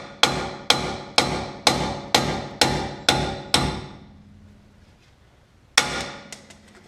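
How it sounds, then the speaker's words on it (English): A hammer strikes a pressed-in wheel lug stud on a Kia Spectra rear hub flange: eight sharp metallic blows in a steady rhythm, then a pause, then one more hard hit, loud and close. "You should be able to knock them out with a hammer."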